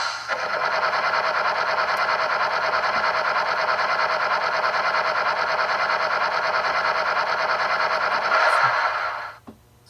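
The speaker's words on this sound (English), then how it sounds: "It sounds like a compressor of some sort" Compressor-like whir from a Rapido Dash 8 model locomotive, a steady, loud, buzzing electronic drone held for about nine seconds before cutting off, with no talking.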